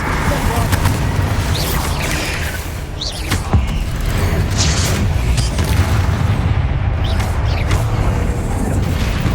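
A Bombarda explosion spell in Hogwarts Legacy goes off amid loud, continuous battle noise with booms and crackling bursts, while a voice talks over the din.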